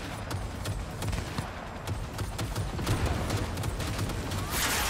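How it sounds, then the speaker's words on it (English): Enemy gunfire in Cyberpunk 2077: a steady stream of sharp shots and rattling bursts at moderate loudness, continuous and somewhat distant, with a louder burst at the end and no talking. "they're the ones shooting, I'm not"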